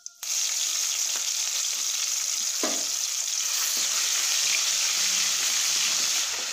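Ginger garlic paste fries in oil with a steady sizzle and hiss, occasional faint stirring scrapes and a brief splash-like burst near the middle.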